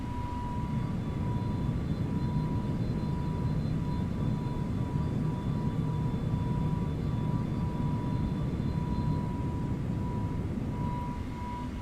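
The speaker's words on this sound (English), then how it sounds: "The Neos have this really interesting whine to them" An Airbus A321neo climbs in the ToLiSS flight simulator, its engines giving a steady roaring drone with a thin sustained whine riding on top, continuous and unbroken.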